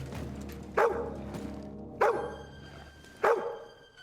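In Kingdom Come Deliverance 2, a dog gives three sharp, loud barks, spaced about a second apart, over a quiet background.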